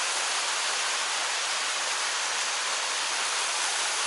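Steady rushing water of a waterfall beside a clear mountain stream, a dense continuous wash that holds even and fills the whole scene with no other sounds breaking through.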